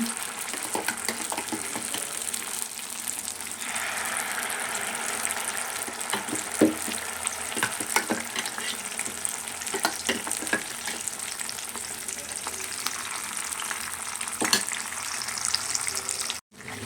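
Steady sizzling of tomato puree frying in a pan over low heat for a rice dish, with occasional stirring scrapes and clinks, close and continuous throughout.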